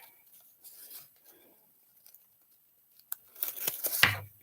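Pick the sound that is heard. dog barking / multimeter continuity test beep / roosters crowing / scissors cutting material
scissors cutting material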